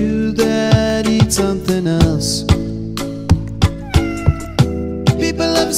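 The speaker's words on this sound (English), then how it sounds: "They're eating the cats. Meow, meow, meow, meow." A cat meows again and again in a steady, rhythmic series of loud, close calls set within a musical track, with no talking.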